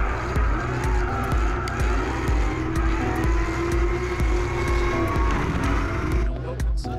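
A supercharged V8 Mazda RX7 drift car on an onboard run at Hampton Downs, its engine roaring steadily with a rough, loud, continuous note and tyre noise mixed in throughout.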